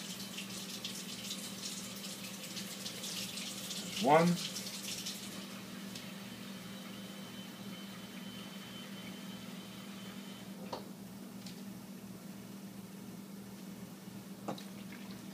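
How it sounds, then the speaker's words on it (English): Warm water at 120 to 130 degrees is poured into a whole grain pizza dough mix, a short splashing pour heard faintly near the start against a quiet, steady kitchen background. "I'm going to put in 2 cups of 120 to 130 degree water into this"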